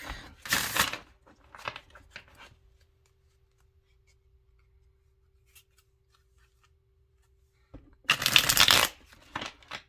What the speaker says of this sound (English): Just do a quick shuffle of these this Revelations deck.